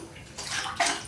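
Water pours into a bucket to mix VoidSpan grout, a brief close splashing rush that builds and grows louder toward the end, with no talk.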